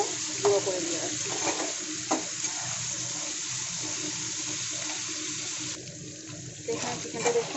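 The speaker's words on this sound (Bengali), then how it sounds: "ভালো করে চিকেনটাকে আমি ভেজে নেব।" Chicken pieces fry in a pan as their released water cooks off, giving a steady sizzle with occasional stirring scrapes and soft watery bubbling throughout.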